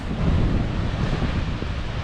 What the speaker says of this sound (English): there's some pretty awesome waves down here.